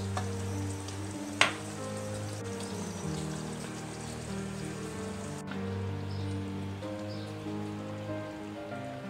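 Chinioti mutton kunna cooking in a pan, a continuous soft sizzle and bubbling with a single sharp clink early on, moderately quiet and with no voices.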